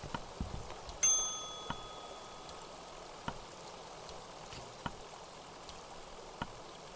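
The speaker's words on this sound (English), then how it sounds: "we should probably ring the bell first before we just wander into this" A bell rings in the video game Kentucky Route Zero: a single clear, bright chime that rings out and fades over about a second. Soft, scattered ticks sit under a quiet background, and no one speaks.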